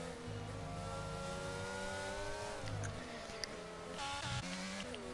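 Formula race cars in a video game on the China circuit, including two McLarens, with high revving engine whines rising and falling through gear changes, layered cars close together, steady and loud.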